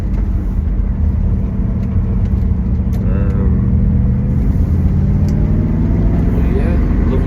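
A Triumph Stag's engine runs smoothly on a drive, its loud, close rumble rising and falling in pitch as it accelerates, with a voice talking over it.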